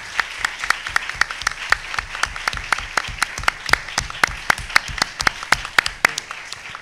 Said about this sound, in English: We can thank you, our panelists, with a round of applause.